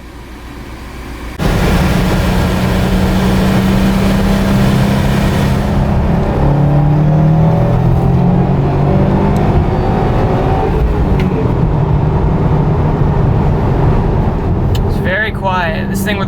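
A tuned stage 2 2019 Subaru STI with stock catback, catted downpipe and factory headers pulls hard on a street, a loud, steady, close engine drone rising in pitch after a brief quieter start.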